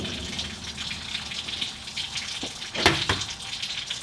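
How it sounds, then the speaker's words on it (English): Water draining out of a plasma cutting table's water tray, a soft steady trickle and gush with a couple of louder splashing surges near the end. "We're going to now be draining water out of the table that the barrels can't hold."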